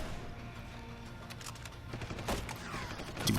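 Bolt action rifle fire in Deus Ex: Human Revolution, a few sharp shots and crackling gunfire bursts over game background ambience, the loudest report near the end.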